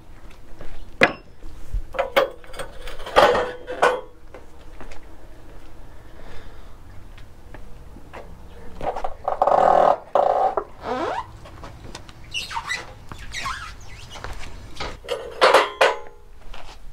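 Motorcycle dolly lockers are popped down one after another, giving sharp metallic clicks, clunks and scraping knocks scattered across the stretch, close by, with quieter handling noise between them.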